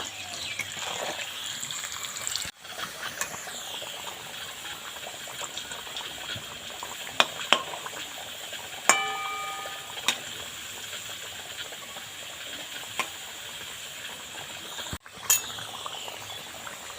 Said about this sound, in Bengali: এইভাবে আলুগুলো উল্টে পাল্টে ভেজে নেব